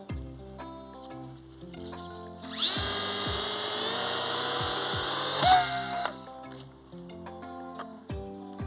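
An electric motor on an RC conversion of a Guillows TBF model plane spins up its propeller for about three seconds, a high whining buzz that rises then cuts out, set against background music.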